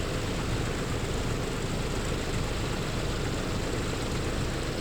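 A PMDG DC-6 piston engine, engine number three, runs steadily in Microsoft Flight Simulator 2020, giving a constant dense low rumble with broad noisy roar and no talk over it.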